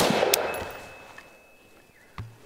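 A single sharp gunshot from a pink MU-15 AR-15 rifle at a shooting range, one crack at the start decaying into quiet, followed by a fainter clank near the end.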